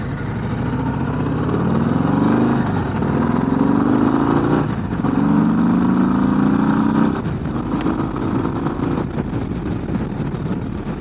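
A 2025 Harley-Davidson Low Rider ST motorcycle engine on a test ride, a steady loud rumble that rises and falls through gear changes, with wind noise throughout and no talking.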